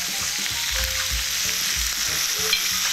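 Steady crackling sizzle of bacon frying in a pan, loud and close, with occasional clinks and low thumps of handling.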